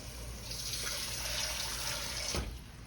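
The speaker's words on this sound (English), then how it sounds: "I just added water to it, made a beef stock." Water runs steadily into a pan as beef stock is made from beef base for a braised pot roast, a continuous splashing pour with a slight change near the end.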